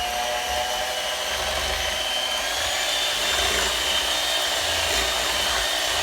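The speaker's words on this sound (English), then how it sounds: "put the mixer back on here and mix this really well" An electric hand mixer beats evaporated milk for a flan, a steady, even motor whine with a faint high hum that runs unbroken and fairly loud throughout.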